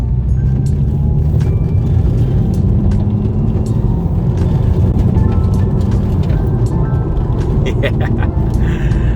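Front-wheel-drive Volkswagen Scirocco driven hard in an open space, a loud continuous engine drone with road rumble throughout, and voices talking over it.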